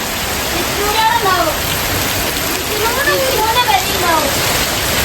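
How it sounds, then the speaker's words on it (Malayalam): Heavy summer rain pours down in Malappuram, Kerala, as a loud dense hiss close by, while voices speak over it; no distinct thunderclap stands out. "ഇതാണ് വേനൽ മഴ."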